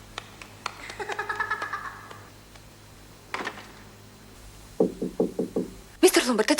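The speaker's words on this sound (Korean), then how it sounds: "결국 그녀는 롬바드의 방문을 두드렸고" Knocking on a room door in a stage of Agatha Christie's And Then There Were None, a woman rapping on Lombard's door in a quick burst of five or six sharp, close knocks, with talk and other noises around it.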